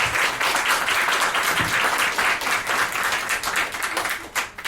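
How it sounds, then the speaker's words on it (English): A room of attendees at a talk on technology and storytelling for social good applauds the panelists, loud and close, with dense overlapping claps sustained throughout before thinning at the end. "So let's give them a round of applause."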